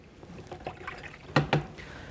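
Water in a bowl sloshes and splashes faintly as bonsai roots, from a Chinese elm being repotted, are cleaned, with two sharper splashes standing out near the end against quiet background trickling.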